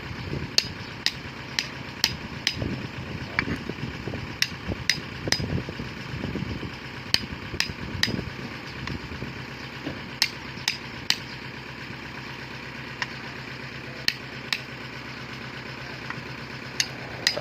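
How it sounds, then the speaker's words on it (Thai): Sharp metallic hammer strikes drive a soil test sampler into compacted ground in irregular bursts over a steady low engine rumble, repeating throughout with short pauses between groups. "เจาะดินที่บดอัดเสร็จแล้วนะครับ เพื่อดูว่าบดอัดได้ไหมอะไรได้ไหมนะครับ"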